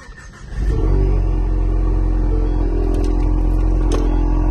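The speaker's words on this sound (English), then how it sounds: "And let's start up the car." A 2017 Ford Mustang engine cranks and catches, then settles into a loud steady idle rumble close by, with no talking.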